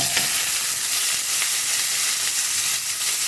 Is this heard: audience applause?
no